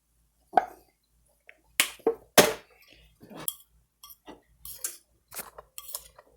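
Sausage is stirred into a cast iron pan with sharp metallic clanks and scrapes of a utensil, coming as irregular separate hits with brief quiet gaps between them.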